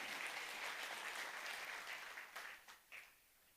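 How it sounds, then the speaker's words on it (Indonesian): An audience claps at a motivational business talk, a brisk, steady burst of applause that thins out into a few scattered claps before fading. "Berikan aplaus yang meriah untuk Bapak Ibu semuanya"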